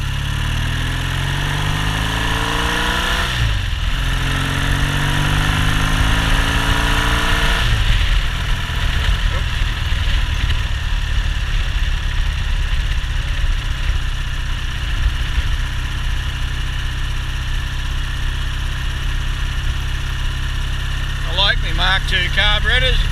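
Triumph Bonneville motorcycle engine runs steadily for over twenty seconds, a loud, even mechanical drone with shifting tone early on and a brief rattling burst near the end, while someone talks over it.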